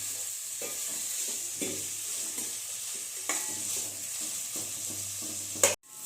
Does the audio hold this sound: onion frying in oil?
yes